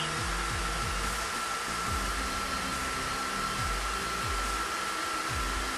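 An asymmetric brushless motor spins at about 2900 RPM and pushes a lot of air, giving a steady, even whirring drone with a constant hum that holds unchanged from start to finish, no talking.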